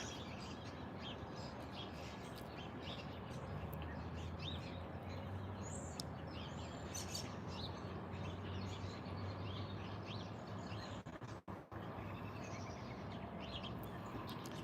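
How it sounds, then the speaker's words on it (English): Birds sing and chirp on a small-town main street in Denton, Maryland. Many bright, quick calls overlap at a moderate distance above a faint, steady outdoor background hum. "listen to the birds"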